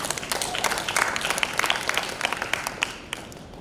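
A church congregation at a senior community service claps for a few seconds, loud and continuous, with sharp individual claps standing out near the front.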